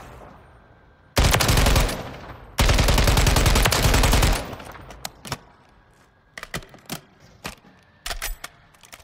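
Automatic fire from an FN HAMR IAR rings out in Call of Duty: Modern Warfare III. A short loud burst is followed by a longer sustained one, then several brief, quieter bursts spaced apart.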